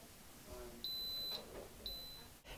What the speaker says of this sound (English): After 6 hours, the alarm goes off.